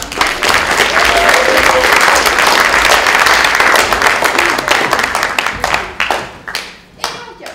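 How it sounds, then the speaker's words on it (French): Audience applause at a theatre performance of a poetic variation on Racine's Andromaque: loud, dense clapping from many hands that thins out near the end into scattered, separate claps. "vous pouvez applaudir"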